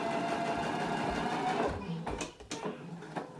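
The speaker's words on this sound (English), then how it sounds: "Now I'm going to go ahead and baste across the top." A sewing machine bastes across the top of a pleat on a shirt back, whirring steadily and then trailing off into uneven clicks and knocks as the stitching ends.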